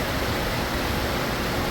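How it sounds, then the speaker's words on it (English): Heavy rain pouring down outdoors in hot, humid weather, a steady dense broadband hiss filling the whole short stretch with no letup and no voices. "It is pouring here."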